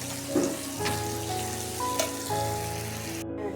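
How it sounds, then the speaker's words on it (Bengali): Onion browning in hot oil gives off a steady, even sizzle with soft crackles, accompanied by a sustained tonal background. "পেঁয়াজটা আগে একটু লাল করে নিই"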